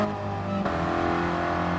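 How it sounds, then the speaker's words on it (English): A car in Gran Turismo Sport holds its engine on the rev limiter, a steady loud high-pitched drone with a brief stutter partway through as it bounces against the cutoff. "I just ended up banging on the limiter because I didn't know where the rev limiter was on this car"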